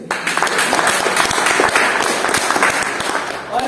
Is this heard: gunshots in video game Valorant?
no